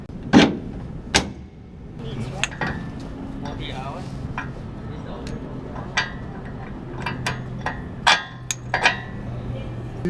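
Spacers are bolted onto a steel traction bar in a fabrication shop, with sharp metallic clinks and knocks of parts and tools arriving at irregular intervals. A few are loud and close, and soft background noise runs between them.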